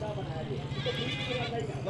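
A big, strong male goat gives a short bleat close by, heard under and between steady conversation between men.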